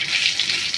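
Mustard-based tempering frying in hot oil for a dal gives a brief close crackling sizzle with fine popping bursts, alone without talk.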